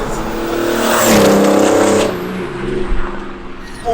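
A modified mail van's engine revs hard on turbo boost, a loud close drone that climbs, holds and then falls away.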